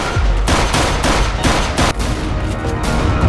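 Shotgun blasts in the Minecraft video game, a series of loud, close booming shots in quick succession with brief gaps between them.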